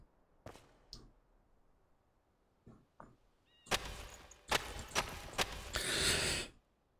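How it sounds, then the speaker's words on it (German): A coughing fit: a few sharp isolated coughs, then a loud burst of repeated harsh coughs and wheezy breaths, close and alone. "Oh, da hatte ich eine Hustenattacke."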